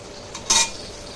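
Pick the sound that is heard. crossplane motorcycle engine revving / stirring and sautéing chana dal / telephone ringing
stirring and sautéing chana dal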